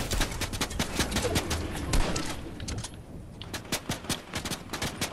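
Rapid gunfire in the video game Fortnite, a loud string of close shots with a brief lull, then sharp, evenly spaced single shots continuing to the end.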